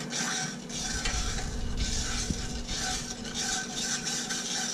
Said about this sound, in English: Give it a stir here till the sugar melted